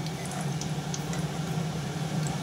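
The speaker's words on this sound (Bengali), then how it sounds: "আর এবার বাকিগুলো সব ভেজে নেবো এক এক করে" Food pieces frying one by one in a pan, giving a steady, close sizzle and bubbling hiss throughout with no talk.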